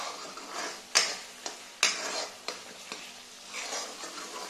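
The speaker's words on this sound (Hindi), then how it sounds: "अभी मैं इनको 10 मिनट और अच्छी तरह से स्लो फ्लेम पर भूनूंगी" Blended masala for a mustard-flavoured eggplant and potato curry roasting on a low flame in a pan, with a soft continuous sizzle broken by several sharp clinks and scrapes of a spoon stirring against the metal.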